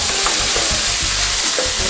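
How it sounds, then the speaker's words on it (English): Onions and garlic fry in olive oil in a paella pan over an open fire, giving a loud, steady sizzle with occasional stirring scrapes throughout. "We're gonna start by putting some good olive oil in there. Onions and garlic first."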